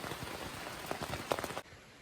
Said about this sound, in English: It's been a serious downpour.